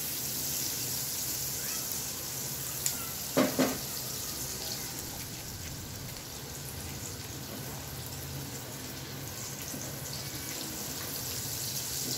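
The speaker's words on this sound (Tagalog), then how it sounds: "Okay, mainit na yung ating mantika. So, unahin natin yung bawang." Chopped garlic frying in hot cooking oil in a pan, giving a steady, close hiss of sizzling with a few brief clicks and pops near the start.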